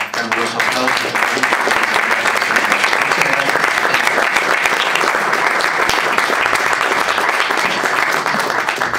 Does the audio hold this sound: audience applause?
yes